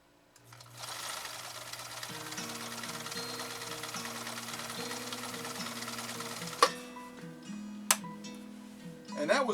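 A 1965 Husqvarna Viking 2000 sewing machine stitches zigzag through material, its steady motor hum overlaid with a rhythmic pulsing needle swing, close and continuous, ending with a few sharp clicks.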